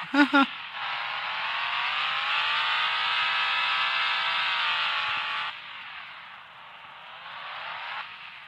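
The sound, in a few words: truck engine revving in second gear, Offroad Outlaws video game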